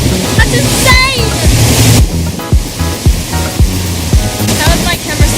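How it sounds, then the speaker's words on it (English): Loud rushing waterfall water crashes steadily around a quad bike riding through a waterfall in Bali, with splashing bursts, rider voices and excited shouts mixed into the roar. "We just rode through a waterfall."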